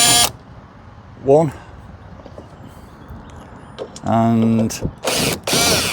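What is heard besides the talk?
drill driver removing Ford Ranger tail light bolts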